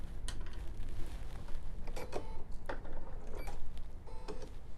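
A BERNINA embroidery machine stitches a quilt held in the hoop, giving a steady mechanical whir broken by short clicks and rattles. It runs close and continuous, with no voices.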